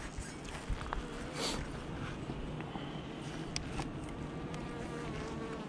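Honeybees hum and buzz steadily around beehive frames on hives outdoors, a close, dense drone with a few individual bees passing near and faint knocks in the background.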